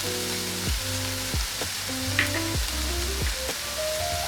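Seasoning stirred into a pot of stuffed pepper soup makes a soft simmering sizzle with faint stirring scrapes, accompanied by an intermittent low tonal hum.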